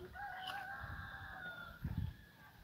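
A chicken in a rural farmyard gives a few soft, low clucks near the end, faint and somewhat distant against a quiet outdoor background, with no one talking.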